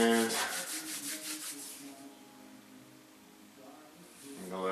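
A cloth rubbing over wood to wipe excess glue off a wooden glue-up, giving a close rhythmic scrubbing swish that fades midway and returns at the end.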